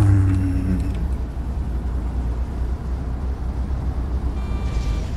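Car driven in the Contraband Police video game, a steady low engine rumble and road noise that stays loud and continuous throughout, with no talk.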